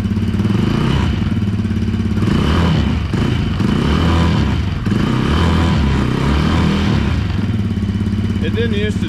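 Polaris Sportsman 110 EFI ATV engine running after a fuel pump replacement, a loud, close, steady idle with a rough low rumble and clatter that stays continuous throughout, people talking faintly over it.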